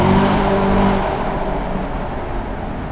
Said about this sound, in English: There's lots of traffic.